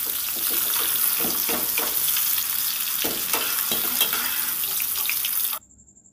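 Kundri and potato pieces fry in hot oil, a loud, steady sizzle broken by a few scraping stirs before it cuts off abruptly near the end.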